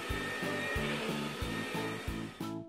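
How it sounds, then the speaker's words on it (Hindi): A vacuum cleaner tube runs over the fat on a leg: a close, steady motor whine broken by about six rhythmic suction strokes as the tube is pushed back and forth. "और वैक्यूम ट्यूब को चर्बी वाली जगह पर चलाएं।"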